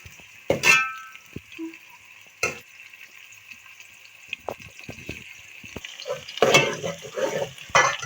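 Finely chopped onions fry in a pan for a dhaba-style chicken curry, giving a soft steady sizzle broken by a few sharp clangs and scraping stirs of a utensil against the pan.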